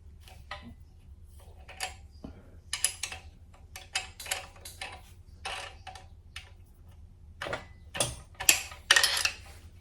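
A 13 mm wrench works the rocker arm adjuster nut on a 1972 Super Beetle engine, sounding as sparse metallic clicks and ratcheting ticks in irregular bursts, close up and with no speech.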